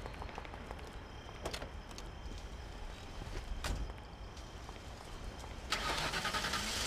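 Car engine starting in the video game Mafia, a cranking turnover with a rising rumble, then a louder steady run near the end, heard alone without talk.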